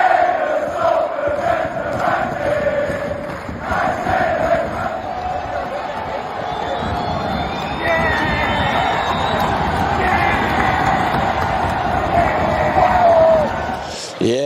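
A Salford rugby league stadium crowd roars and cheers continuously after a win, with a loud massed sound of voices, shouts and whistles heard from within the stands.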